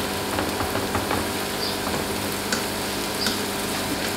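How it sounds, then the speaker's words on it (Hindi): Garlic frying in a pan for garlic prawns, a steady close sizzle with occasional light stirring scrapes, continuous and fairly loud with no talking. "ये गार्लिक हमारा फ्राई हो गया है"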